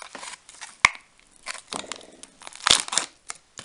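The wrapper of a chocolate chip toaster pastry from an MRE is torn open close up, sharp crinkles and rips in short bursts with quiet gaps between them.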